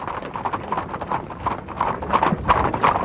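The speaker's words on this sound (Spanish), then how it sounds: "un carrito tirado por 2 caballos. Llevando al trote 2 cajones de madera rústicamente confeccionados." A light cart pulled by two horses trotting, rustic wooden crates aboard, with steady overlapping clip-clop hoofbeats on the street, fairly close and continuous, with a soft breeze in the background and no talking.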